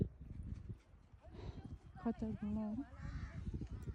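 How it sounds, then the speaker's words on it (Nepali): Mules' hooves clip-clop on open ground in Dhorpatan, Nepal, a steady patter of steps under people talking nearby. "ग्राउन्डमा चाहिँ कति धेरै खच्चडहरू छ क्या"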